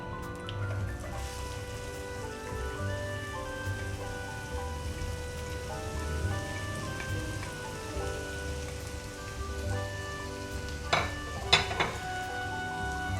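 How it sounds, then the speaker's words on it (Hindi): Chopped onions drop into hot oil in a pan for a dhaba-style white lobia curry, giving a steady crackling sizzle with a couple of quick stirring clatters near the end, under faint background music. "अब हम इसमें प्याज डालेंगे।"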